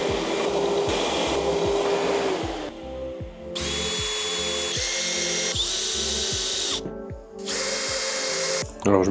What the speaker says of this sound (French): je vais pouvoir pré-percer les pièces avant de les assembler